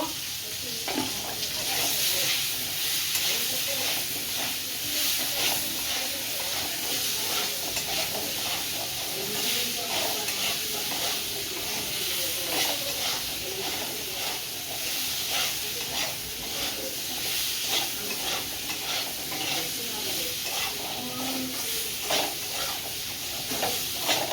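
Potatoes fry in a pan with turmeric and salt, giving a continuous, close sizzle and hiss with occasional stirring scrapes throughout.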